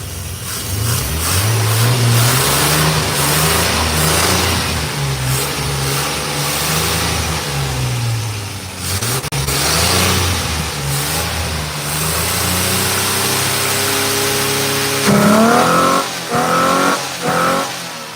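A 1986 Chevrolet C10 pickup's rebuilt 4.3 V6 with throttle-body injection, idle not set right, running nearby with uneven revving that rises and dips repeatedly, then settles into a rougher, lumpier idle.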